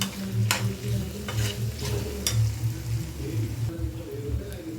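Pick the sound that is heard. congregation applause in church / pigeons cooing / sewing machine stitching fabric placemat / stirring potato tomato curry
stirring potato tomato curry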